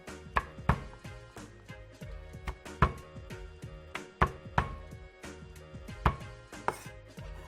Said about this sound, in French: Après, on va écraser l'ail.